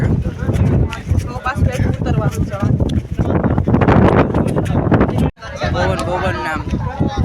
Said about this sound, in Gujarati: પવન બહુ જ છે.